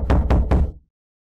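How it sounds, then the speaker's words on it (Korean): Three firm knocks on a locked auditorium door at night, evenly spaced and close, each a solid thud, then silence. "예지가 문을 두드렸습니다"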